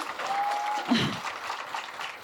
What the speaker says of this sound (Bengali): আরেকটা জোরে হাততালি আরেকটু জোরে হাততালি